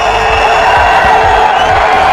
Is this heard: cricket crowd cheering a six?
yes